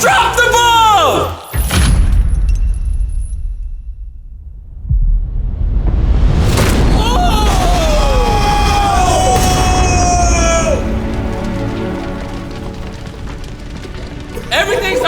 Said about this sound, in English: Fire, a bomb just went off!